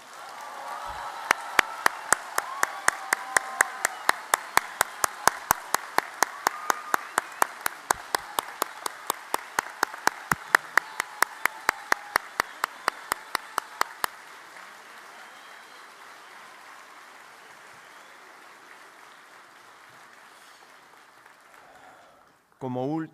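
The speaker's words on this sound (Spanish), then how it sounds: "Un aplauso para que nos duelan las manos." Audience applause at a university industrial engineering graduation ceremony, with sharp rhythmic clapping in unison for about fourteen seconds over a bed of general applause. The applause then fades to scattered clapping and crowd noise, and a voice comes in at the very end.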